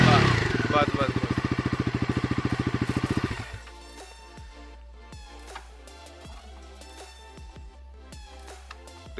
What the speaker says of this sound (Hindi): तो एग्जॉस्ट नोट नो डाउट बहुत प्यारा है इस बाइक का।